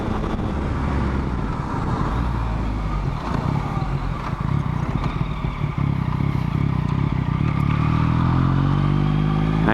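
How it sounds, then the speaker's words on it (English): A small motorbike fitted with a quick shifter accelerates hard and close, engine roaring through rapid upshifts, with rising pitch sweeps near the end as it pulls away. "I do love this little motorbike here. It will absolutely get it. Quick shifter."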